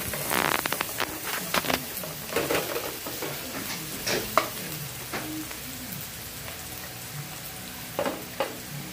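Mixed vegetables sizzle in a pan as carrots are added, with spoon-stirring scrapes and clattering pops over a steady frying hiss, close by, with no voices.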